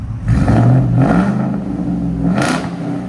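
A 2019 Ford F-250 with a 6.2L V8, Borla S-Type exhaust and resonator delete revs hard and loud up close, surging twice with a deep roar before settling back toward a rumbling idle.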